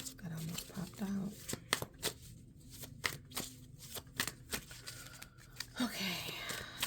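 Tarot cards being shuffled up close, a series of sharp riffling bursts and soft card slaps repeating in an uneven rhythm, with a quiet voice talking between them.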